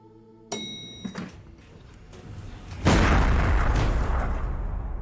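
A gunshot in a Hong Kong police thriller film scene set at an elevator, with a sharp loud bang followed by a heavy booming burst and a rumbling tail, over a tense music score.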